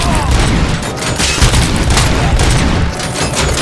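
Dense, continuous gunfire and booming explosions in the video game Robocop Rogue City, a rapid, loud barrage of overlapping shots with no pauses.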